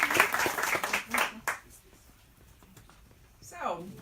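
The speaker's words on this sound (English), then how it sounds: "Applause, everybody." A burst of applause from a small group, a few seconds of clapping that dies away, followed by a brief voice.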